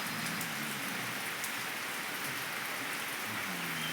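Steady rain pattering on surfaces, an even, fairly soft wash of drops that continues without pause and with no talking.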